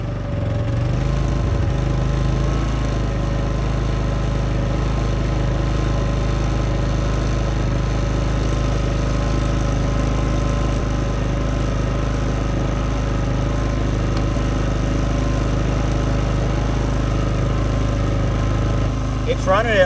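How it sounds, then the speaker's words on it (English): A Predator 5000 inverter generator's engine idles on its first start, a steady low hum running evenly and fairly loud throughout with no talk over it. "It's running at idle right now."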